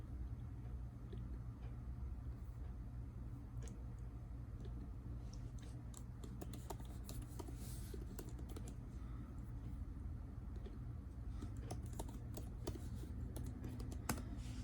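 Quiet typing on a laptop keyboard, likely an Apple M1 model, with scattered key clicks building into quicker bursts toward the end over a low steady hum.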